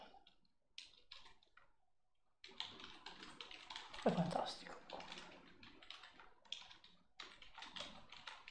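Rapid clicking of a computer keyboard heard from another room, with bursts of taps under a man's soft speech.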